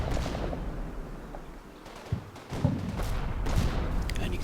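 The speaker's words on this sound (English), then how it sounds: "This turn provides a lot of interesting things, such as our explosions." Heavy artillery-style explosions in the Combat Mission: Battle for Normandy wargame go off as dull, booming thuds over a continuous rumbling battle bed, with a couple of sharper blasts standing out midway.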